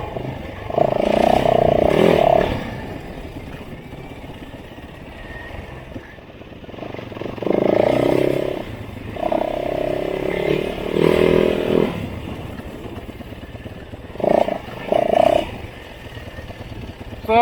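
A new motorcycle being ridden, its engine rising and falling in repeated throttle bursts with quieter stretches of idle and wind between, close to the rider.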